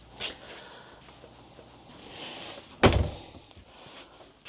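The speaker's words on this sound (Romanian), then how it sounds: "Foarte bine se închide ușa asta." A door on an Autostar Privilege P740 motorhome shuts with a single firm, close thud, preceded by faint shuffling and light handling noises.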